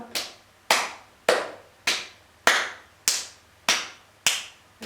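Eight single hand claps during a children's yoga exercise, each sharp and ringing, spaced evenly about every half second in a steady rhythm in a small room, with no talking.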